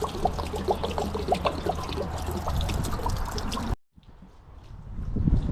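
Water draining out of a 2021 Aspen Trail camper travel trailer during winterizing, a close splashing pour that runs steadily, then cuts off abruptly before faint trickling and rustling resume.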